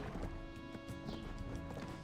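Horse hooves clip-clop in Black Desert Online in a quiet, continuous rhythmic patter of game-world footfalls beside a trade wagon.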